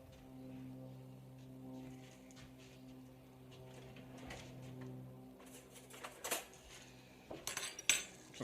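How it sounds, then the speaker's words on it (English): A fork stirs cracked black pepper into pulled pork in a dish, heard as faint, quiet scraping that turns into a few sharper metallic clinks and taps near the end. "Got a fork and just give it a little stir"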